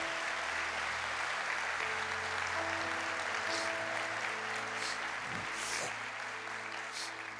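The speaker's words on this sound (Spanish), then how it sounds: "¿Le puedes dar un aplauso al Señor," A church congregation applauds in a steady, even roar of clapping that holds throughout, fairly quiet and heard over a low humming drone.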